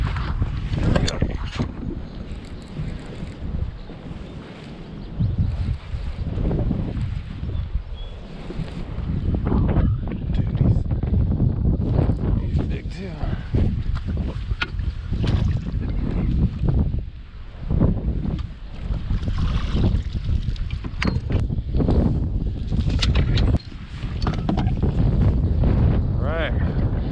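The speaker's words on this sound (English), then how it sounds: "the wind is disrespectful" Heavy wind buffets the microphone on a lake during kayak bass fishing, a continuous loud roaring rumble with gusting swells throughout, and no clear speech.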